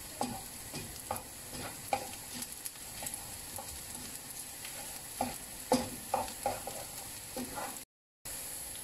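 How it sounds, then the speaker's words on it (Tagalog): Chopped onion and garlic sauté in a hot pan, sizzling steadily with scraping stirs and occasional sharper crackles throughout, briefly cutting out near the end. "So mas maganda si sibuyas muna unahin ninyo sa pag-igisa."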